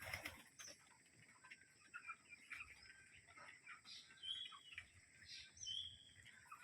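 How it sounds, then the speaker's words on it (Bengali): Pigeons on a farm give soft, faint chirps and short calls scattered over a quiet background, with a high steady hum running throughout. "দেখুন কবুতরের ডাক"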